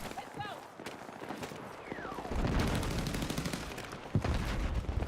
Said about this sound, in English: Getting sniped in the spawn.